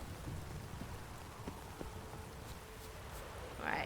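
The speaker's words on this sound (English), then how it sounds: "Right now it's raining, but even in the rain this place looks beautiful." Steady rain falls in the Witcher 3: Blood and Wine game world near a castle, a soft continuous patter that holds evenly throughout with a faint rumble underneath and a brief brighter sound near the end.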